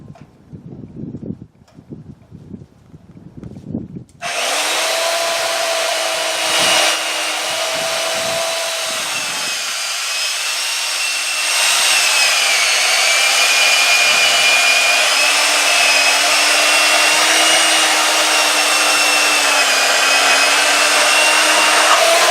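Bauer band saw from Harbor Freight cutting 3/8 inch steel coupons, a loud steady motor hum with a continuous rasping whine that starts abruptly after some faint handling noise and deepens slightly midway.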